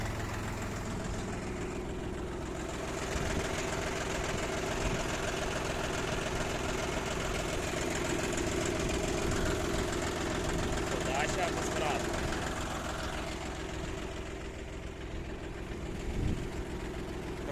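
The small engine of a YTO 24 mini tractor runs steadily nearby with its hydraulics engaged, a low, knocking rumble throughout; someone talks intermittently over it in Ukrainian.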